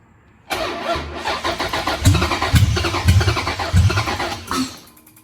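A 6.1 Hemi engine run on a FAST Fuel V1 with a Hemi6 ignition controller cranks from a start button on a weak battery. A loud, rhythmic churning of the starter plays for several seconds close by, then cuts off.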